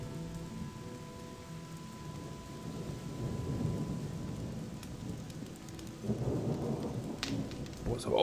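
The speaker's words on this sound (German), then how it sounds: "Boah, ist aber auch ein Sturm." Steady rain with rolling thunder during a storm in the video game Gothic 2, a broad constant downpour hiss with low rumbles swelling midway and a louder surge near the end, heard alone without talk.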